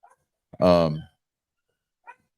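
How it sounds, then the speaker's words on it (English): A single short bark or yelp rings out close by, followed by a faint distant yip after a pause; otherwise quiet. "You can hear my dogs in the background"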